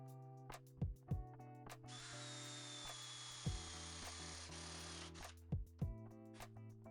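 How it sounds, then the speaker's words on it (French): A wood drill bit, 16 mm in diameter, bores through a board for a homemade wooden toy, giving a steady whirring grind that runs for several seconds. Short knocks and clicks come before and after it. "on va venir percer avec une mèche à bois de 16, diamètre 16"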